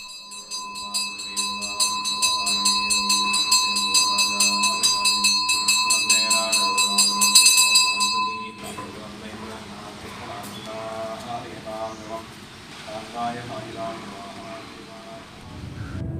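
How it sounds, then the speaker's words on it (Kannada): A temple bell in a quiet forest setting rings with bright, sustained metallic tones for several seconds, then gives way to softer ambient outdoor sound with faint wind. "ಇಲ್ಲಿನ ನಿಶಬ್ದತೆಯಲ್ಲಿ ಸ್ವಲ್ಪ ಗಂಟೆಯ ಶಬ್ದ ಕೇಳಿಸುತ್ತೆ"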